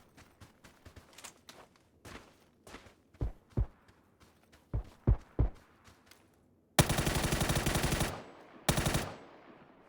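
Scattered single gunshots and footstep-like thuds in the video game PUBG on the Vikendi map, then two loud sustained bursts of rapid automatic fire near the end.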